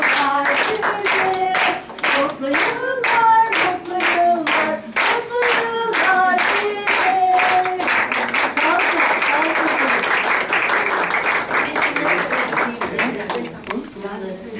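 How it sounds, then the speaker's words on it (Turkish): A crowd at a nursing home birthday celebration claps rhythmically in unison, then breaks into looser continuous applause, loud and close, with voices singing and cheering over it. "Rafet Nergis teyzemizi alkışlıyoruz"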